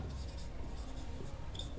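Numbers are written during a maths lesson as quiet, steady scratchy strokes with short pauses between them, faint and close, with no voices.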